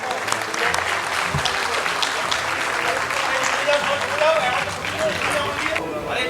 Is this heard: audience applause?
yes